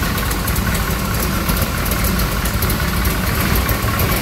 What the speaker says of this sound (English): Chevy Crate engine.